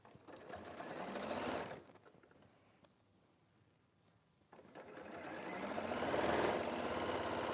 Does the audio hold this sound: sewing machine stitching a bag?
yes